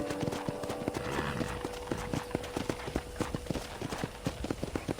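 Steady clip-clop of horse hooves on hard ground with an occasional whinny in a ranch corral in the video game Red Dead Redemption, set against a soft ambient hum.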